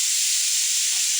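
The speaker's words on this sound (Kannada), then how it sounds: "ಕುಕ್ಕರ್ ಇಟ್ಟೀನಿ ರೀ, ಬೇಳೆ ಕುದಿಯಾಕ" A pressure cooker boiling dal on a home stove hisses steam steadily, a continuous bright, loud rush of escaping vapour with no talk over it.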